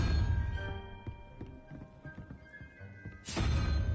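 Bombarda blasting spell effect in Hogwarts Legacy, a loud burst with low rumbling and crashing debris that settles into scattered clatter, then a second loud surge at the end.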